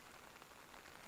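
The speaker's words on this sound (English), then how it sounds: "I turn around at the sound of the pouring rain." Steady pouring rain from the video game Absent in the Rain, a dense, even hiss of drops on surfaces, continuous and fairly loud with no voices.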